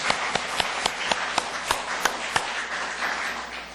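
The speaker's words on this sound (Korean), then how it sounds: "우리 감사 박수 드릴까요?" A church congregation at an evening revival service claps in unison. The sharp, regular claps at first land about four times a second, then loosen into softer, scattered applause.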